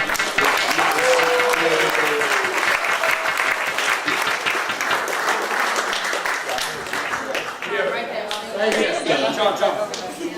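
Guests at a fundraiser break into a round of applause, a dense wash of clapping with some chatter and a few chuckles mixed in, easing off and then swelling again near the end.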